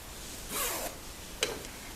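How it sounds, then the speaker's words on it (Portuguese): An invisible zipper on sewn fabric is pulled closed in a short, close zipping rasp followed by a second brief zip. "Vamos fechar aqui o nosso zíper."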